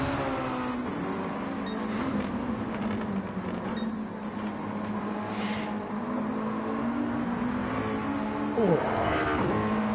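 GT1 race car engines in a video game drone and rev continuously, a steady mechanical roar with occasional pitch shifts, fairly loud throughout.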